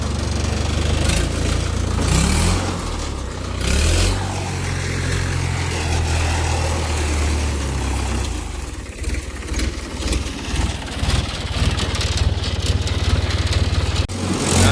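A farm tractor engine idles steadily and loud throughout, a continuous low rumble with a few brief louder bursts near the end and no talk.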